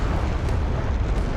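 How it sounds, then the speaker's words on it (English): Missile explosions in a naval battle video game, a dense, loud, rumbling blast with deep booming low end that stays heavy and unbroken for the short burst. "now they're firing at each other, yeah. And the missiles going everywhere"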